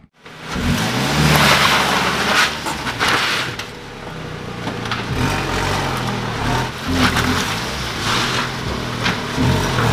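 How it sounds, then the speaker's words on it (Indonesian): Toyota Limo car on a brake test drive after rear disc brakes and aftermarket Brembo covers were fitted: a loud engine swell at the start, then a steady, close road and engine drone with rising and falling surges. "Ini mau dicoba pengeremannya dulu jalannya."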